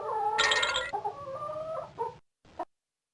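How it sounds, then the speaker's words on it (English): Cartoon rooster crowing in the children's farm game Let's Explore the Farm, one loud, drawn-out cock-a-doodle-doo followed by a couple of short clucks, close and clear with no talk. "Rooster."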